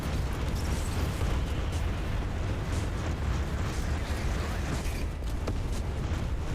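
Mines blowing up in the space shooter Everspace 2: a loud, continuous wall of deep rumbling blasts with overlapping bursts and crackle, dense and close throughout.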